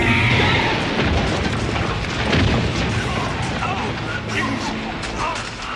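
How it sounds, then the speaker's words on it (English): A loud, rumbling film explosion with crashing debris fills the scene, sustained and heavy, with shouting voices mixed into the chaos. "The explosion causes Reed to lose his footing"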